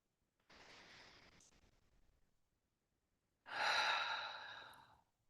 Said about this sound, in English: Keep on breathing like this